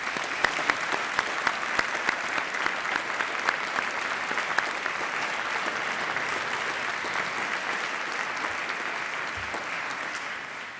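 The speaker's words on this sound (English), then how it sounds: "turn around or turn to their side and clap our supporters" Graduates at a university graduation ceremony applaud their supporters in a large hall, sustained even clapping from a big crowd that carries on throughout and fades slightly at the close.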